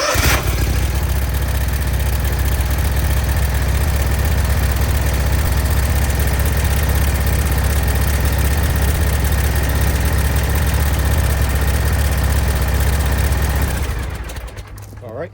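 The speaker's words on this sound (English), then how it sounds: "now we'll just start it on low RPMs" A Scag zero turn mower engine runs at low RPM with a steady, loud, low idling rumble that holds constant and then drops off abruptly near the end as it shuts down.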